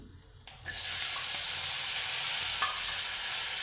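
Coarsely ground peanuts drop into a hot pan with curry leaves and begin frying, a sudden burst of sizzling after a brief quiet moment, then a steady loud hiss with occasional stirring scrapes.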